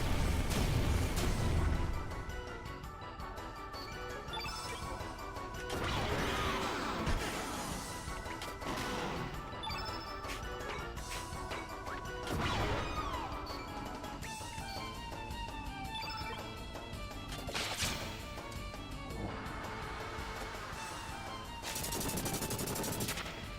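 The Magma Bomb spell attack in Chrono Cross, a dense run of explosive blasts and crashing impacts layered over game music, loud and continuous for about twenty seconds with short surges.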